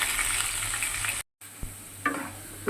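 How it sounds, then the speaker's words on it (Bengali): Potato pieces frying in a pan, a steady close sizzle with a few light knocks and stirring touches over a short stretch, and no talking. "দেখো লাল লাল করে আলুটাও ভাজা হয়ে গেছে"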